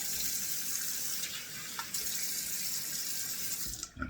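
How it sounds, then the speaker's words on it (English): Cold water runs steadily from a bathroom tap into a sink during a wet shave routine, a continuous hissing splash at moderate level with a brief shift near the end. "I'm turning on the cold water"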